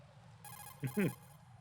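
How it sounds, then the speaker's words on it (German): A telephone rings in Metal Gear Solid 2: Substance on PS2, a short steady electronic tone lasting about a second, with a brief spoken word overlapping it. "Telefon."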